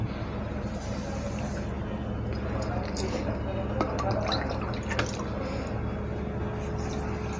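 Milk and water with sugar pour into a pan for sooji laddu syrup, a steady liquid splashing and dripping under a continuous kitchen hum, with a voice faintly present.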